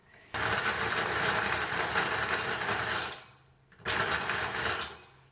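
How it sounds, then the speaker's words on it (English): A grinder chops dried beef jerky, giving a loud, steady whirring buzz that runs for about three seconds. It stops briefly, then starts again in a second burst. "Now I want to find out if I can grind this down with this type of grinder or not."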